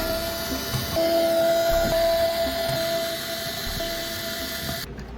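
An electric screwdriver removes screws from an Xbox console during a repair, producing a steady close motor whine with a sustained tone and small pitch shifts, cutting off abruptly at the end.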